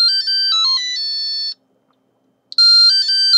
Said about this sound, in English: Play some sound effects once you've finished the race